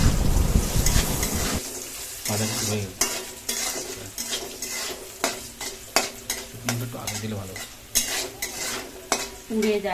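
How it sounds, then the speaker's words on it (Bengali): Whole dried red chillies fry in hot oil for a home-style country chicken kosha, with a steady sizzle and repeated scraping stirs of a spoon against the pan, close and fairly loud throughout. "এখানটা গোটা কয়েকটা শুকনো লঙ্কা আর আমরা এখানটা আস্তেও রাখবো এখানটা আমরা কোনো এটাকে মানে কোনো ই করবো না ছিঁড়ে দেবো না জাস্ট গোটাই দেবো এখন খুব সুন্দর করে ফ্রাই করে নেবো"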